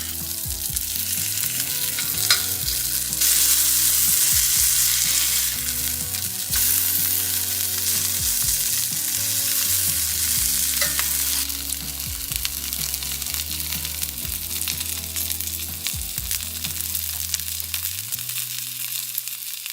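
Food frying in a skillet until golden brown, a steady loud sizzle with occasional stirring clatter throughout, no talk.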